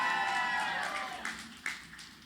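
A cheering crowd applauds at a retail demo day event, with a steady wash of clapping that fades over a couple of seconds and a few sharper individual claps near the end.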